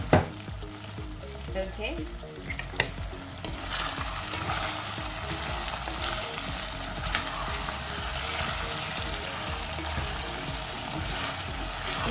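White adobo, Filipino-style, frying as its vinegar and oil cook off, a dense continuous sizzle and crackle close by that grows fuller after the first few seconds, with a brief spoken word near the start.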